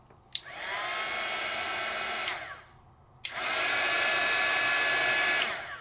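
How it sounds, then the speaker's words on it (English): A Sizzix heat tool used on embossing powder blows hot air in two steady, whooshing bursts with a short quiet gap between them, close and moderately loud. "The nice thing about the Sizzix heat tool is that it is hard to burn."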